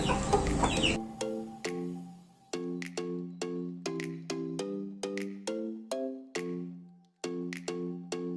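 Chickens close by let out a series of distinct, evenly spaced clucks, clear and fairly quiet, following a brief burst of noise at the start, with no talking.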